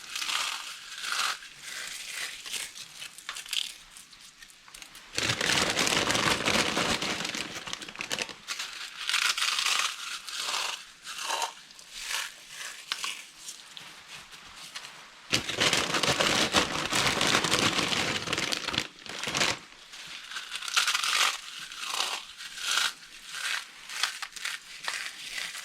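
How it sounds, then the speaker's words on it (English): Doritos tortilla chips get crushed and broken by hand, with repeated crackling, crinkling bursts in several loud bouts separated by quieter rustling. "We're going to take the Doritos and smush them."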